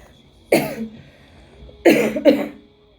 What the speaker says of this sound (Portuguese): Ai, a tosse ainda é ruim.